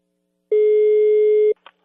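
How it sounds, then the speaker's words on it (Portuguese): A single telephone busy tone sounds after a call is hung up: one clean, steady electronic beep lasting about a second, followed by a faint click. "Ei, seu Chico Mutico, a ligação caiu"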